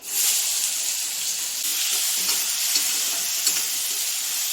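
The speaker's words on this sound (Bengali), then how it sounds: "পেঁয়াজটা অনেকটা তো ভাজতে হবে" Onions frying in hot oil in a pan while being stirred, a loud, dense and steady sizzle up close with faint scraping from the stirring and no talk over it.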